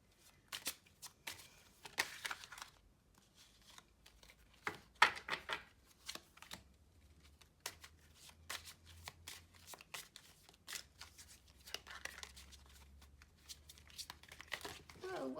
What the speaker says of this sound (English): I don't know what's going on with my shuffling.